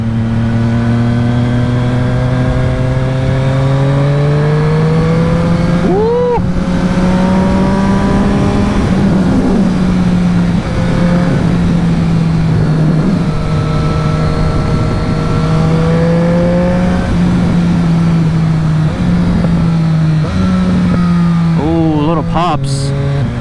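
Triumph Street Triple RS motorcycle with an aftermarket exhaust running on a dyno, holding a deep, bassy drone with rev blips that rise and fall, ending in a brief burst of quick crackles, loud and up close.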